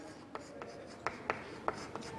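Marker highlighting words on a page, a handful of short, scratchy strokes at an irregular pace, close and fairly quiet against a faint room hum.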